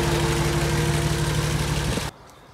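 A car engine idles with a steady low rumble, then cuts out abruptly, leaving near silence.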